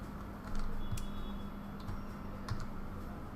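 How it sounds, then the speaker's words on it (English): A few scattered keystrokes on a computer keyboard during a live Illustrator design class, light clicks spaced out over a steady low room hum. "we'll just type ACE"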